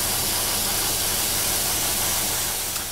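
Airbrush spraying paint onto a 1/48 Academy SU-27UB Flanker model kit, a continuous close, even hiss of compressed air and atomised paint that holds steady, then eases off slightly at the very end.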